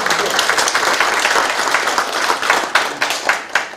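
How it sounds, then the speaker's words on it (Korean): Loud, sustained applause from a crowd at a Korean citizens' town-hall meeting in Gwango-dong, dense clapping throughout with a few sharper claps rising toward the end. "다시 한번 박수 한번 부탁드립니다."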